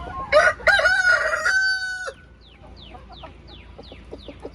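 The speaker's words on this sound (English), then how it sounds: "These are my hens." A backyard rooster crows loudly and close, followed by softer repeated clucks and chirps from hens nearby.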